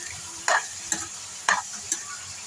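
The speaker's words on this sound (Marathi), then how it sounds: "आता आपण त्याच्यामध्ये लाल, पिवळी आणि हिरवी शिमला मिरची टाकणार आहोत आणि ती पण चांगली परतून घेणार आहोत।" Red, yellow and green bell peppers stir-fried in a pan for an egg dish, with a steady sizzle and four sharp scraping stirs at a slow, even pace, close and clear.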